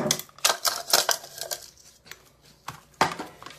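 Ice dropped onto blanched guso seaweed in a kitchen makes a quick series of close, clattering cubes knocking and rattling together in irregular bursts, with no talking.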